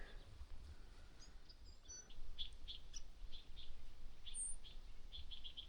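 Small birds chirp and tweet in open grassland near a canyon, scattered short calls at a distance over a quiet low wind rumble.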